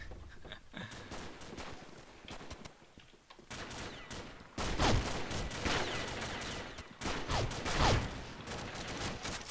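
An M4 Super 90 semi-automatic shotgun firing in a multiplayer shooter game, a string of loud, booming blasts in quick succession that builds into heavier, overlapping fire toward the end, with footsteps and other gunfire mixed in.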